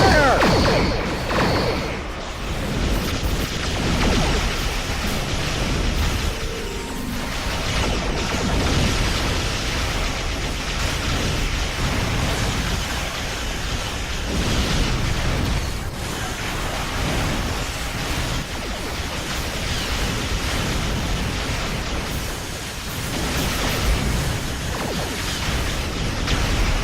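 Starship weapons fire and explosions in Star Trek Online, a dense, continuous wash of rumbling blasts and crashing noise that stays loud throughout with no clear pauses.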